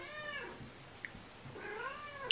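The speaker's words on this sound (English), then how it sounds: "Is there ever a day where I can't get my cat to stop?" A pet cat lets out two drawn-out meows close by, fairly faint against a quiet indoor background.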